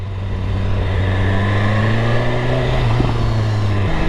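A BMW S1000RR motorcycle exhaust hums loudly and steadily, with a brief blip of revs near the end before settling back to a constant drone, close and alone.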